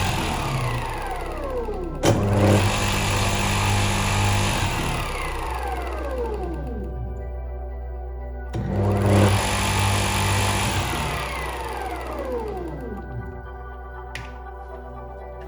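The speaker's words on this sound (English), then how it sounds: "if we connect it to the main power, it turns on as any motor would" An electric motor runs on a 220-volt mains socket, giving two bursts of whirring, whining hum whose tones slide downward as it winds down each time, heard alone with no speech.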